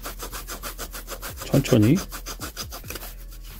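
Flush-cut dowel saw cutting a wooden dowel in furniture joinery, heard as a steady rhythm of quick back-and-forth rasping strokes, close and moderately loud, with a brief spoken word partway through.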